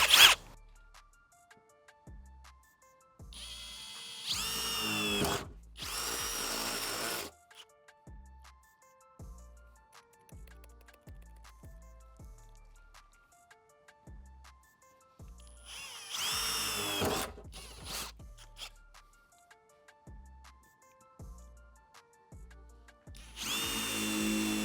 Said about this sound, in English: And for the terrifying part, drill.